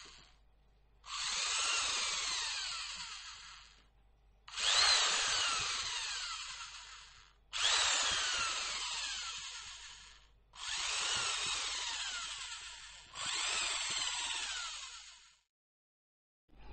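A 2.2 mm electric drill bores out small holes in a Stratocaster guitar body, running in five separate whining bursts of about two seconds each with short pauses between, close and loud, with no talking.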